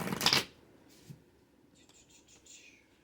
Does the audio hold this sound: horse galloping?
no